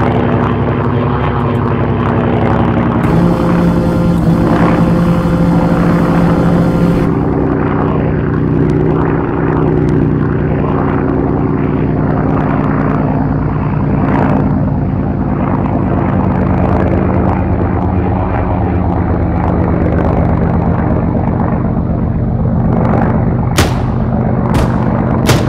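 A propeller plane flies steadily in Arma 3, its continuous engine drone loud and close throughout with a constant tonal hum, and a few sharp bursts near the end.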